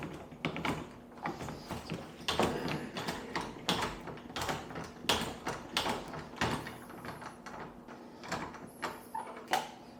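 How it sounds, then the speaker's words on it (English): Screw being backed out of an old door handle in an old house, with irregular metallic clicks, scrapes and ratcheting rattles close up, uneven in rhythm and moderately quiet, with no talk. "Take the screw all the way out."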